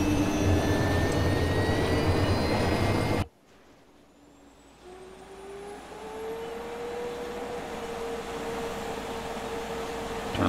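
A steady, loud engine roar from helicopters and aircraft spawned in a video game cuts out abruptly, then a quieter drone and rising engine whine build back up.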